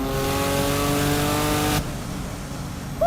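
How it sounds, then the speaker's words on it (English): Porsche 996 Turbo flat-six engine, modified, revving hard at high RPM on a straightaway, a loud sustained droning roar that cuts off abruptly partway through, followed by quieter road noise. "you still get that nice flat six sound"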